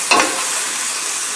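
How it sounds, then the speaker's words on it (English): Broccoli, asparagus and tomato cooking in a pot are stirred once briefly, then a steady hiss of sizzling and bubbling continues alone. "in between the 10 minutes, we have to stir"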